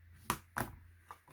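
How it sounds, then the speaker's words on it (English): A bone folder presses and creases the edges of a cardstock card base, making two crisp, close taps followed by two softer, quieter knocks. "we're going to get our bone folder and make them nice and crispy edges"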